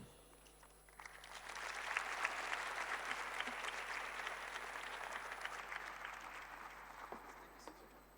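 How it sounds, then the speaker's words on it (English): Conference audience at a digital transformation summit applauding after a speech, clapping swelling in after a second, staying broad and steady, then tapering with a few scattered claps, heard from a distance and fairly quiet. "Another round of applause."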